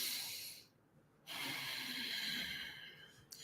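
Deliberate, throaty breathing is heard up close, with a long rasping exhale, a brief pause, then another strong hissing breath and a short catch near the end.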